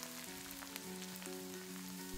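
Green chilies and chopped onions with salt sauté in a pan for a Kerala-style chicken roast, a faint steady sizzle with soft crackles and a low background hum.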